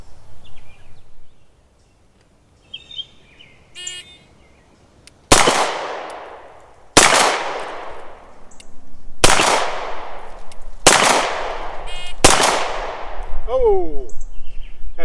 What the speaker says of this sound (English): I have 8 seconds to fire 2 rounds into the target, and then kneel down and fire 3 more rounds into the target